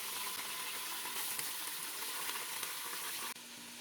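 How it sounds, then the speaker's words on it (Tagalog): Beef shanks for bulalo fry in a pan with a dense, steady hiss and crackle of sizzling oil, close and continuous, dropping slightly in loudness near the end. "Una kong gagawin ay ipiprito ko ng bahagya yung beef shanks."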